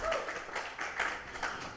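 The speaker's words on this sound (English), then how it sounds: "Y'all clap and cheer." Gala audience in a room clapping and cheering, a dense, steady wash of many hands with raised voices throughout, moderately loud and close.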